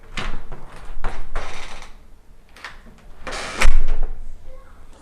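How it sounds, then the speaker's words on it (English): Lever of a hornbil fingerprint smart lock pushed down to unlock a door, a few close mechanical clicks and rattles ending in a sharper latch clack. "just push down on the lever to make sure that it actually unlocks your door"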